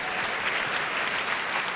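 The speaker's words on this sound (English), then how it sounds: "Yes, please give them a round of applause." An auditorium crowd at a literary author talk applauds in a brief, even burst of dense clapping, heard from a slight distance with no speech over it.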